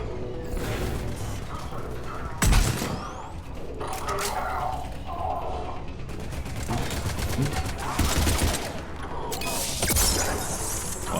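Turret gunfire in Mass Effect 3 comes as repeated bursts of rapid shots and sharp impacts, with several loud bangs standing out over busy game noise.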